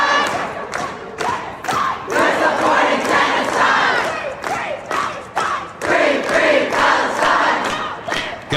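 A crowd at Chicago City Council chants loudly and claps together in unison in repeated rhythmic bursts, with brief pauses between the shouted phrases.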